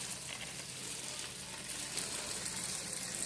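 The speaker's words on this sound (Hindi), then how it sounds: "पानी देती हूँ पौधों में।" Garden plants being watered in the evening, a steady soft hiss and splash of water running throughout, faint and even with no talking.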